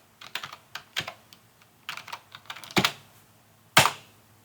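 Keys tapped on a computer keyboard while entering a terminal command, a quick irregular run of close, crisp clicks ending in two firmer strokes, with no voices.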